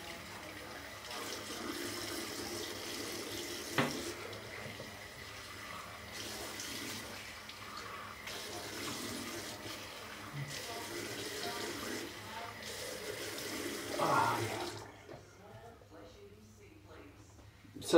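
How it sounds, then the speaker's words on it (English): Warm water runs steadily from a sink tap in a bathroom, a continuous hiss lasting most of the span before cutting off near the end. "Run on a warm water."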